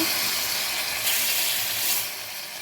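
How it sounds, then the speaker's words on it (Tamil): Hot ghee sizzling steadily with cashews for a tempering as it is poured into mango and tomato jam, a soft continuous hiss close by with no talk. "நெய்யை ஊற்றி முந்திரி பருப்பு தாளித்து கொஞ்சம் செவந்ததுக்கப்புறம் அப்படியே அந்த ஜாமில் கொட்டிடுங்க"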